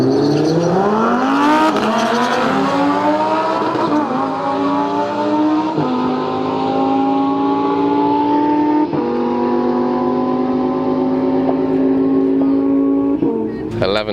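Honda drag cars accelerate hard down the Santa Pod drag strip, their engines climbing steadily through rising revs with brief shift breaks. The engine noise is loud and continuous, and a voice talks under it.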